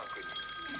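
A telephone bell rings steadily for a moment, fairly faint, with the continuous tone filling the short stretch during a French-language research seminar round table.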